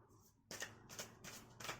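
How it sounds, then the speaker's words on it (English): A deck of reading cards being shuffled, with a few quick riffling bursts separated by short pauses, close and quiet. "Give the cards a final shuffle."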